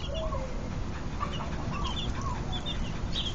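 A group of ten baby chicks in a yard chirp in short, high rising and falling peeps, scattered and repeated over a constant background hiss, with no talking.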